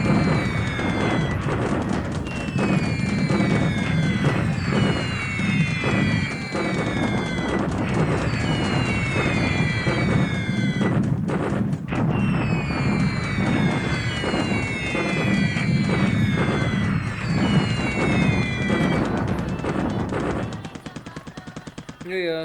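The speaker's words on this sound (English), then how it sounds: "Airstrike on Xi'an Airport." Constant barrage of explosions and rapid gunfire with descending whistles from the strategy game War in the Pacific: Admiral's Edition during an airstrike on Xi'an Airport, loud and dense throughout with scattered voices mixed in.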